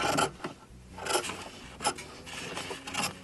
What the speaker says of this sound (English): And now I just take my scissors and trim off